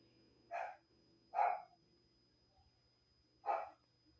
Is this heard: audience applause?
no